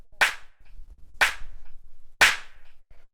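Three evenly spaced hits of a layered clap sample, a roomy clap blended with a punchy one and left dry without bus compression, each a crisp snap with a short tail, alone about once per second.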